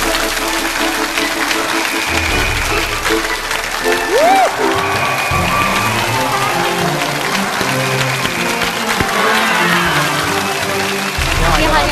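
A studio audience bursts into sustained applause welcoming a guest speaker, biologist and Tsinghua University medical professor Yan Ning, onto a Chinese lecture-show stage; dense clapping fills the whole stretch with brief musical tones rising underneath.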